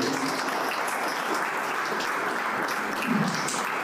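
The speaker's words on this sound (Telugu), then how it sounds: "మీ అందరు చప్పట్లు ఒకసారి." An audience claps steadily and evenly at a temple-style food distribution event, a dense wash of hands that carries on without a break from start to finish.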